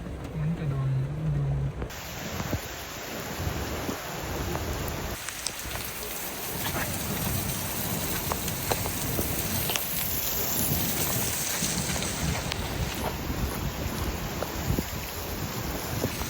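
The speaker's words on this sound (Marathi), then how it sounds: "पाऊस आहे खूप जोरात भाई." Heavy rain pours down steadily, a dense, hissing roar of drops on surfaces that swells in after a brief quieter moment and continues loud and unbroken, with faint voices under it.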